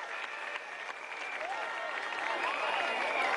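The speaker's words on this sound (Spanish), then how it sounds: "pido un aplauso para este joven, compañero, luchador," A crowd at a campaign rally in Guarenas-Guatire claps continuously, loud dense applause with shouts and cheering voices rising through it, swelling toward the end.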